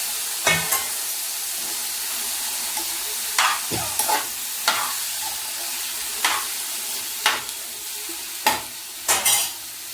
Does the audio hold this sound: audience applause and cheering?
no